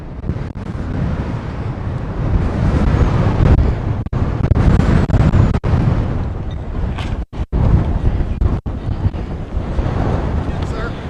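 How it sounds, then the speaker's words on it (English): Strong wind blows outdoors through trees, a loud, continuous buffeting roar that batters the microphone throughout, broken by a few brief sharp dropouts. "It is windy out here today."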